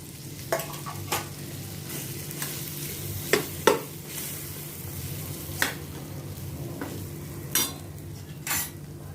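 Mashed boiled potatoes stirred into a hot pan for khasta aloo matar kachori filling, a soft continuous sizzle broken by occasional spoon scrapes and taps against the pan, close and unaccompanied by talk.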